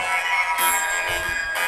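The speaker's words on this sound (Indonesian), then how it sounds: "Ini ada suara alien." A short snippet of music with a warbling, metallic, robotic quality, like a voice run through an alien-style pitch effect, bright and continuous.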